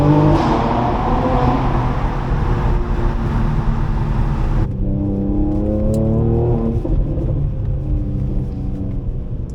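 Mercedes C43 engine accelerating hard on a drive, a loud throaty roar with rising harmonic sweeps as revs climb, a brief upshift dip midway, then pulling again through the next gear with no talk.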